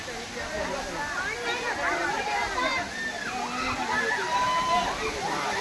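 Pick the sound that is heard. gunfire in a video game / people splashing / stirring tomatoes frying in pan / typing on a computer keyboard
people splashing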